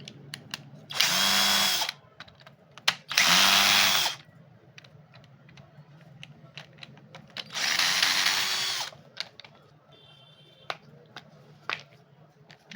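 A 5-inch electric angle grinder of the kind electricians and plumbers use whines up loudly in three separate bursts of about a second each, with quiet gaps and faint clicks between runs.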